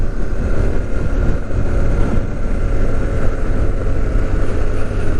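A Yamaha Tenere 700 motorcycle ridden downhill through twisty roads in South Australia's Southern Vales: a steady, loud engine drone buried in heavy wind buffeting throughout, with no talking.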